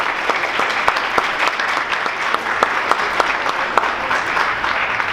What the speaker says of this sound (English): let's have a round of applause for Gina.